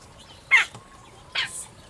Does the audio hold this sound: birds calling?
yes